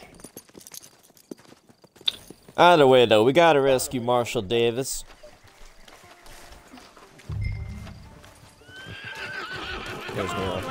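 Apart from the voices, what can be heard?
horse hooves and neighing in a video game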